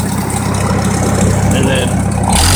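A 1953 Farmall Super H tractor engine idles low and steady, a loud continuous chugging rumble that shifts and rises briefly near the end, with someone talking over it.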